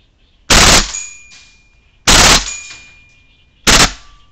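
A WE SMG-8 airsoft gun fires on full auto in three loud, close bursts, each about a third of a second long, with short pauses between them and a faint ringing tail after each burst.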